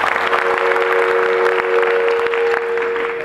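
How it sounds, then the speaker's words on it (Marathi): An audience at a statewide folk art festival in a theatre hall claps loudly and continuously, a dense sustained wash of applause from a large crowd with no break. "पुन्हा एकदा मला आवाज ऐकायचा शेवटपर्यंत जोरदार टाळ्यांचा आवाज"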